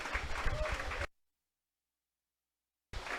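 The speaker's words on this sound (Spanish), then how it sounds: "Alguien le da un aplauso al Señor en esta hora." Applause from a church congregation in Quito during a Spanish-language sermon. One second of dense clapping cuts to near-silence, then returns briefly at the end.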